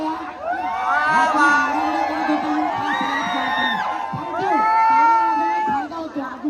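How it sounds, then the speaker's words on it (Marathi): Excited crowd at a Dahi Handi festival event cheering and whooping, with loud overlapping shouts and children's voices rising and falling over several seconds. "जरा जोरदार टाळ्या"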